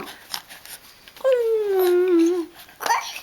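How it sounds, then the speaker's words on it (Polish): A dog gives a single drawn-out whimpering whine, about a second long, over faint background murmur. "A, piesek."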